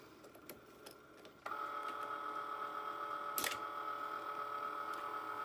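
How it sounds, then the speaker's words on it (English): Cricut Maker cutting machine powering on, with a few faint clicks, then a sudden steady electronic whir with a tonal whine, a brief mechanical clack partway through, fairly quiet and close. "This is the Cricut Maker. And I'm going to push the on button, and it is going to turn on."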